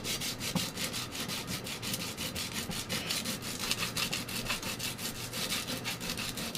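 Coarse 80 grit sandpaper worked by hand over the surface of a DDR arcade cabinet to strip off adhesive, making a steady rapid rhythmic scrubbing rasp, close and continuous with no talking.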